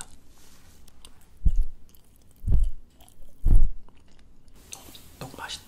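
Close, soft chewing of chewy, rubbery rice cake (tteok), three distinct squishy bites spaced about a second apart against a quiet, hissy background, with faint whispery sounds near the end.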